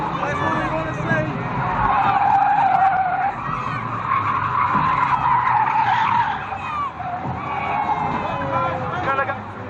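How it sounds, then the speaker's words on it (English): A race car spinning out at Fleet Raceway in 2005, tires skidding and squealing loudly for several seconds over a roaring engine, while a commentator talks and a crowd murmurs in the background. "136 has spun out."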